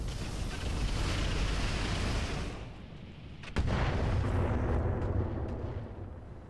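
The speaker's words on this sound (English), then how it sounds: "These guys think they can shoot buildings." Enemy units in Roguetech firing heavy weapons at buildings: a continuous roar of cannon and explosion noise, a brief lull, then a sharp, loud report followed by more sustained rumbling blasts.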